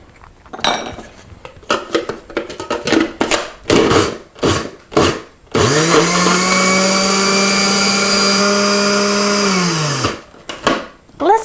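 Food processor pulsing carrots and ricotta: a run of short, loud choppy bursts, then one long steady high-pitched motor whine for about four seconds that winds down, with a final brief pulse.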